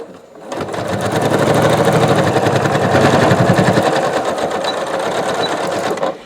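Sewing machine running steadily while stitching a zippered fabric pouch, a loud continuous mechanical whir with rapid needle chatter for about six seconds, starting and stopping abruptly.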